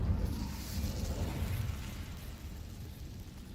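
An Incendio fire spell cast in Hogwarts Legacy, a low rushing whoosh of flame that swells briefly and then fades into a steady rumble, with no voices.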